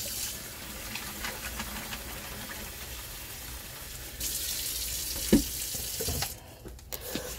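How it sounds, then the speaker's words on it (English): Running tap water pours steadily into a pot in a sink, a continuous rushing hiss that shifts in tone partway through, with a brief clunk near the end. "So what I'm about to do is add some water in here."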